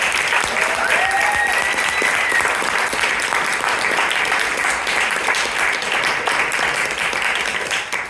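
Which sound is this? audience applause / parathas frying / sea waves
audience applause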